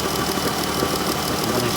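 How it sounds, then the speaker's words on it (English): A Ram Promaster runs with a rattling flexplate at the transmission, giving a steady engine drone with dense, continuous fine rattling and knocking throughout, close and moderately loud. "Can you hear that rattling? It kind of sounds like popcorn being made inside of a coffee can."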